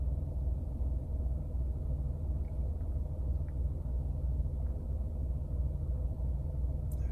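A Renault Clio 4 sits idling with a steady, low engine rumble that stays even and unbroken throughout, heard from inside the car with no talking.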